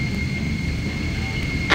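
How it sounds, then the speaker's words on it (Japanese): Helicopter in flight from the video game Action Taimanin, a steady loud engine drone with a constant high whine and no pauses. "ヘリは時速300キロだ。"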